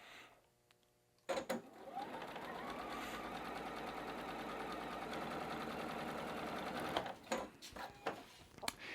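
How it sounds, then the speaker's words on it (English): A sewing machine stitches fabric quilt blocks in a steady, fast mechanical whir that starts abruptly and runs evenly, then breaks into short, uneven bursts at the end. "you could be stitching these either way you want to through the machine"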